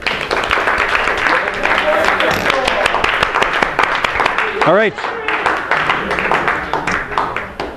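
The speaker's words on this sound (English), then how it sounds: "Let's give him a round of applause." Audience applause for a volunteer at a physics demonstration, dense clapping filling the room throughout, with a voice speaking over it partway.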